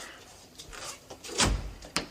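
An interior door shut with a single firm thud, preceded by brief handling and creaks, close and clear in a quiet room.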